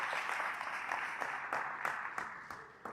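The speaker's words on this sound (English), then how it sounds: "A round of applause for him, please." Audience applause at a university alumni mentoring series event, a steady wash of clapping from a sizable crowd holding at an even level throughout, with no talking over it.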